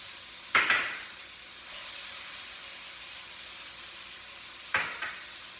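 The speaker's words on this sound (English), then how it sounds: "So now we can put in our peas and our corn." Peas and corn dropped into a pan of frying onions for fried rice, two sharp sizzling bursts a few seconds apart, each fading into a steady soft hiss of cooking.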